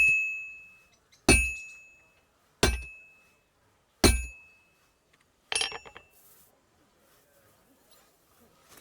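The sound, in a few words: constant clinking of forging in video game Legacy of the Forge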